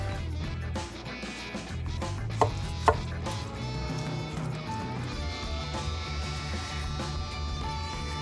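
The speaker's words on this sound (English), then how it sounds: "let's cut this one right here, right down the middle" A knife cuts down the middle of a smoked bacon-wrapped armadillo egg stuffed with sausage, with two soft crunchy thuds of the blade against a board under low background hum.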